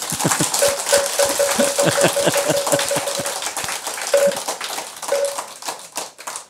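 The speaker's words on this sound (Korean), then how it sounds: "공감했으면 뺨 박수." Scattered hand claps and taps from an audience at a Sunday Buddhist dharma talk at Musangsa temple, arriving as sparse sharp bursts over a few seconds with no clear speech.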